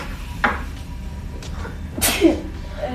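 A single person sneezes once, sharp and close, over quiet room noise during a tabletop role-playing game session, with a few small bumps before it.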